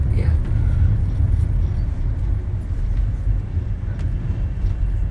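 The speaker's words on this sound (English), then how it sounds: "Still slow-moving traffic." Slow-moving road traffic makes a steady, low rumble that runs continuously throughout, with no distinct passing vehicles standing out.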